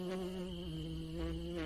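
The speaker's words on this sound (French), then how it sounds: "Le temps s'écoule, le bourdonnement est incessant." An insect trapped inside a car buzzing without pause, a steady, close, droning hum that swells slightly near the end, with no speech over it.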